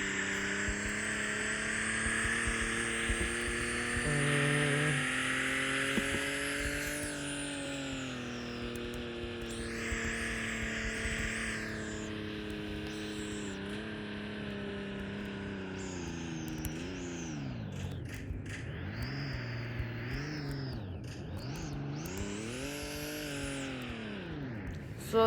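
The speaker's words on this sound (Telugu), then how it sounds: "ఈ కార్ డ్రైవ్ చేసి చాలా రోజులు అయింది ఫ్రెండ్స్, అందుకే నేను ఇప్పుడే డ్రైవ్ చేసుకుంటున్నాను." Car engine in the Roblox game Car Dealership Tycoon, a continuous synthetic drone that rises and falls in pitch as the vehicle accelerates and shifts, steady and fairly loud with no voice over it.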